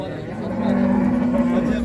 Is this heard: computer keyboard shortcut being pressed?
no